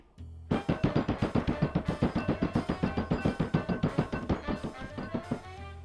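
Dozens of rapid, regular thuds pound away in a steady rhythm, sharp, close rubber kitchen hammer blows crushing walnuts inside a bag.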